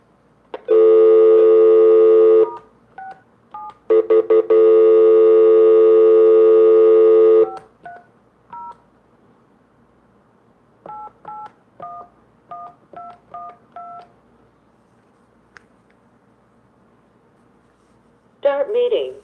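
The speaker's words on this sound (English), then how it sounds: "we're going to go to the phone line and dial in the number." Telephone dialing tones on a call into a phone line: two long steady tones, then a quick series of short DTMF keypad beeps in uneven groups, loud and clear, with a brief different sound at the end.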